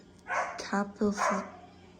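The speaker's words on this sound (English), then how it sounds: "the dogs are going crazy" Dogs bark and yip in a few short, loud bursts in a house with many houseplants, with a voice talking nearby.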